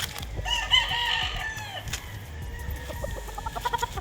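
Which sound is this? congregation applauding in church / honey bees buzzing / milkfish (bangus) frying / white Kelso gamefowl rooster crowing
white Kelso gamefowl rooster crowing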